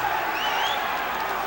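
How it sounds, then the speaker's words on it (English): A boxing arena crowd roars steadily during a fight, a dense, loud wash of cheering voices with no break. "this crowd already whipped into a frenzy"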